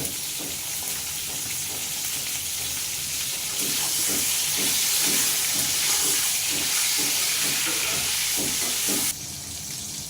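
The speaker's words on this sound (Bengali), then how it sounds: "পটলটাও ঠিক ওইভাবে ভেজে তুলে নেবো" Batter-coated pointed gourd frying in hot oil, a steady close sizzling hiss that grows louder partway through, with soft scraping clicks from the pan before it drops off near the end.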